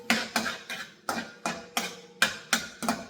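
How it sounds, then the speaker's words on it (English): Onions and peppers stirred in a hot pot of oil, a spoon knocking and scraping in a quick, even rhythm of about ten sharp strokes, close and moderately loud. "We're gonna give that a good mix."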